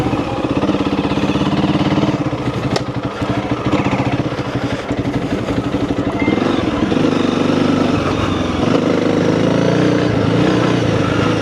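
Honda CRF300L motorcycle engine running steadily and close throughout an off-road ride, a continuous loud drone with slight shifts in pitch as the throttle changes.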